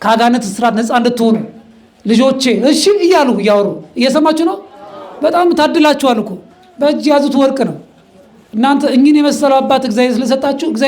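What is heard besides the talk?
No everyday noises stand out.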